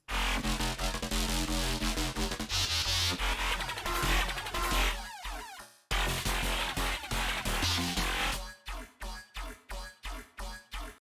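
Heavy, wobbling dubstep bass with sustained synth tones, loud and continuous, breaking into rhythmic pulsing chops near the end, no drums.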